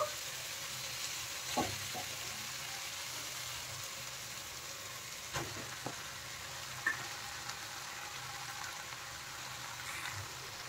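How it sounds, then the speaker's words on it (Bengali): Noodles stir-fried with vegetables in a pan, a soft steady sizzle with a few sharp scrapes and knocks of the spatula at intervals, quiet and close, no talk. "এখন আমি নুডলসগুলো দিয়ে দিচ্ছি, সবজির সাথে মিশিয়ে দেব।"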